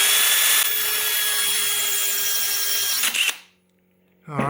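A power drill with a 4mm arrowhead bit grinds loudly into porcelain tile for about three seconds with a harsh, high whine. It then winds down and stops, and a brief voice follows.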